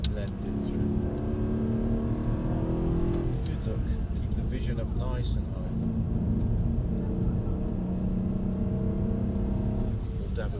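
Car engine droning steadily and close while driving on the Brooklands track and braking through a bend, with a rumbling low tone that shifts pitch, under continuous talk from a person in the car.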